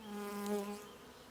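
Bees buzz in a steady, close drone that swells briefly and then settles, a brief moment of insect humming.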